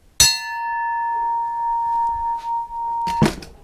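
A forged axe head of U8 steel from 1956, without its handle, is struck once and rings with a clear, sustained metallic tone that slowly decays for about three seconds before a second sharp clank cuts it off.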